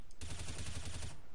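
Rapid gunfire in Counter-Strike: Global Offensive, a tight burst of many quick shots for about a second, fairly quiet and continuous, with no voices.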